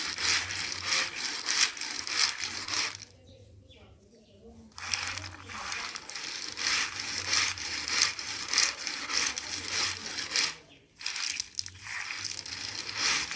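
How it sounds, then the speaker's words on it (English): Rhythmic gritty scrubbing, a rough to-and-fro rubbing of sand and water against glass beads during polishing in Ghana, pausing twice while a voice speaks quietly. "The polishing process takes 10 to 15 minutes, and we use sand and water to make it to and fro"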